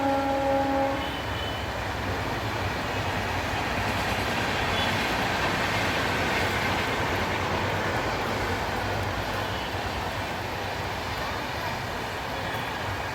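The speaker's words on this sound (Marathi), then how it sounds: "काय वाजते का ट्रेन वाजते का ट्रेन आलेली आहे" A train rumbles past at close range, a steady roar of wheels on rails continuing throughout, with a faint horn-like tone at the start.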